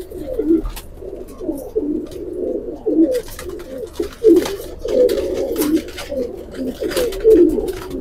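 A pair of Rampuri teddy pigeons coo up close, giving loud continuous throaty rolling calls that overlap in steady waves throughout.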